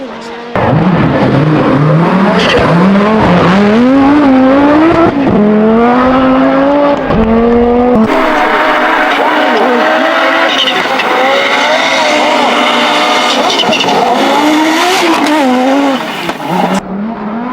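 An Audi Sport Quattro Group B rally car with shortened wheelbase roars loudly and continuously, engine rising and falling through gear changes with tire squeal, close and dominant throughout.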